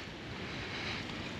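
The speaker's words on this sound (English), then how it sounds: "The sea breeze coming off from the Irish Sea." Sea breeze blowing in off the Irish Sea onto the Scottish coast, a steady broadband rush of wind and surf, continuous and fairly faint, with no voices over it.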